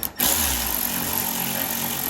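A power driver whirs steadily while tightening a lock nut on a John Deere D100/D110 lawn tractor's blade engagement cable, starting after a short click and running continuously at close range.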